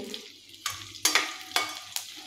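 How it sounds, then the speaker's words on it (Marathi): Edible gum frying in ghee crackles close by in short surges of sizzle, each swelling after a stroke of stirring, about four bursts in quick rhythm with no voices. "आपण हा डिंक आहे तो तुपामध्ये परतून घेऊया।"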